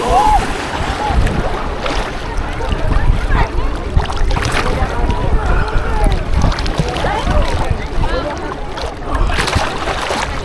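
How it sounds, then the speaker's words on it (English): A boat rumbles past over choppy water, with wind buffeting the microphone and splashing throughout, fairly close and steady. "So we had just had a boat go by."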